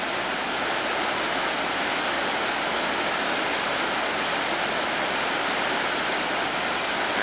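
Whitewater rapids on the North Fork Payette River, a dense, constant rushing roar of churning water, loud and unbroken with no voices.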